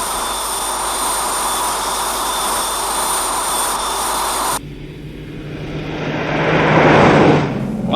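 A steady, loud jet aircraft roar holds for several seconds. It then shifts to a broader rushing engine sound that swells as the aircraft passes overhead, with no voices.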